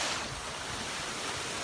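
Rushing water at the top of a waterfall makes a loud, steady broadband roar, dense and continuous with some wind noise on the microphone.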